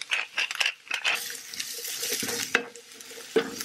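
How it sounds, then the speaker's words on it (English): Chopped onion sautéing in avocado oil, with a sizzle under clinks and scraping stir strokes, a few sharp knocks of a utensil against the pan, close and fairly loud. "we'll just let the onions cook for about 5 minutes"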